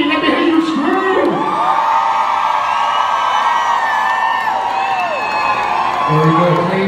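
A concert crowd of women screams and cheers loudly at a hip hop show at The Venue, with sustained whoops and shrieks rising and falling for several seconds.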